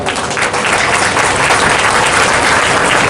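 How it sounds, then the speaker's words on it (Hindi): Loud, dense applause from a school audience at an opening ceremony fills the whole stretch. It is steady, close and unbroken, with no voices over it. "तालियां थोड़ी कमजोर पड़ रही है।"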